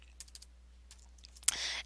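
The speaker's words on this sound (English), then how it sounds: "I could do the exact same thing in Microsoft Excel by pressing equals and typing in all of the numbers" Soft keystrokes tap on a computer keyboard as numbers are entered into a Microsoft Excel formula, a few quiet clicks followed by a brief louder clatter near the end.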